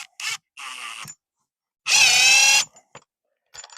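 Power drill boring a screw hole during a hardwired EV charger install: one loud, steady burst of under a second, with shorter whirring bursts before it and faint clicks after, no talk.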